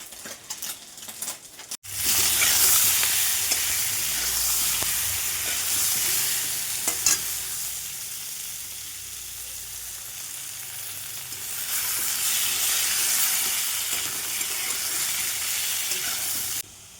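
Ridge gourd and potato pieces fry in a pan with a steady, loud sizzle after a quiet start, swelling again toward the end, with occasional faint utensil clinks and no talking.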